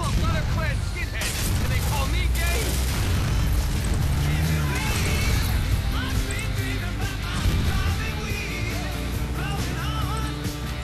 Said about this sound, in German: Spreng ich hier alles in die Luft, was sich irgendwie bewegt